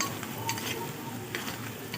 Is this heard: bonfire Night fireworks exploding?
no